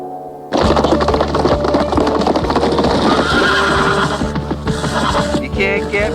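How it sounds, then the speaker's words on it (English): Cartoon horse whinnies loudly and clip-clops over a busy, dense backdrop of clattering effects, the sounds close and continuous from start to finish. "Untamable outlaw bronc. This is the orneriest horse in Polecat Flats."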